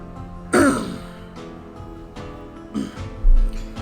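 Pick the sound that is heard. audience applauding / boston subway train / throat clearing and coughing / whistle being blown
throat clearing and coughing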